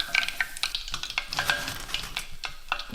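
Battered chicken pieces fry in hot oil for a salt-roasted chicken dish, crackling and sizzling steadily while rhythmic stirring scrapes and clatters through the pan, with no talking.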